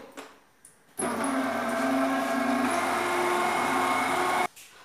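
An electric mixer whirs loud and steady for several seconds while blending mascarpone and banana mousse ingredients, starting and stopping abruptly with quiet handling before and after, close and alone.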